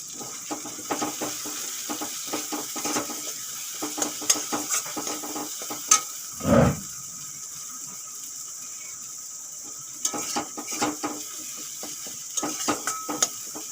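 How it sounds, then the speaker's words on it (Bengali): Sweet potato being sautéed with turmeric, chilli, coriander and cumin powders and salt in a pan, with a faint steady sizzle under scattered scrapes and clinks of a spatula, and one louder knock midway. "মশলা ভালোভাবে কষানো হয়ে গেছে"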